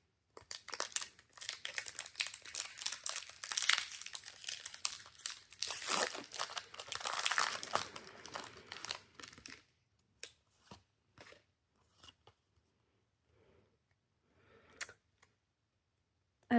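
Pokémon Mega Evolution booster pack wrappers crinkling and tearing open up close, a busy continuous rustle for several seconds, then sparse soft card handling and quiet shuffles.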